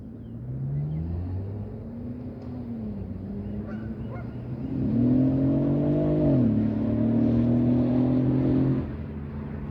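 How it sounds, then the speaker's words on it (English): Loud engine noise swells and fades as cars pass nearby a small lake, with a long honking tone rising and sliding in pitch. "Loud cars, loud cars."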